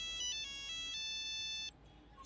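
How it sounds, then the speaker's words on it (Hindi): A mobile phone ringtone plays an electronic melody of bright repeated tones for an incoming call, fairly clear in a quiet indoor room, then cuts off abruptly near the end. "इस वक्त किसका फोन आ गया?"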